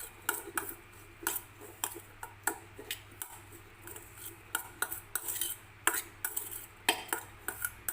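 A spoon clinks and scrapes steadily against a bowl as garam masala and cumin powder are stirred together, a close, rhythmic run of light metallic taps with no talking.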